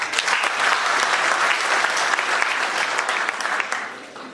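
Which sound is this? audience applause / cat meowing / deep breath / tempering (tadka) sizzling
audience applause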